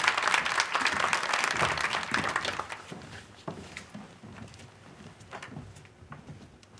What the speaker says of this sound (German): Begrüßt ihn mit einem großen Applaus.